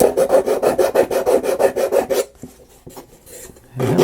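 A file rasps back and forth on a small wooden marble run part, a quick steady rhythm of close, loud strokes that stops midway, followed by quieter handling knocks and scrapes.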